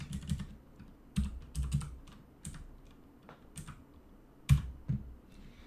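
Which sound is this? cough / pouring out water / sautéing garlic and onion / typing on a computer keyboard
typing on a computer keyboard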